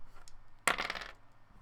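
Small dice rolling and clattering across a tabletop, one close sharp burst of rattling that settles after about half a second, alone in a quiet room.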